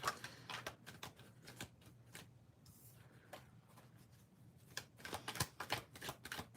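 Tarot cards are shuffled in quick riffling bursts with soft taps and pauses between, close and fairly quiet.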